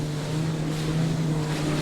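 A jet ski running at about 40 km/h in strong wind: a steady, droning engine hum under a constant rush of wind and spray, with no talking.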